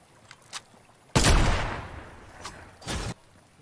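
Gunfire in the Fortnite Battle Royale arena, a few faint distant pops followed by two loud close blasts with a long decaying echo, about two seconds apart.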